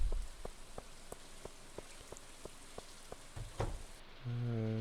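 Rain in the farming video game Stardew Valley: soft, steady patter with regularly spaced ticking drops, quiet throughout, and a tonal game sound entering at the end.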